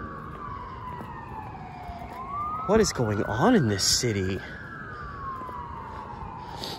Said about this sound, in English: There have been so many sirens the last hour and a half.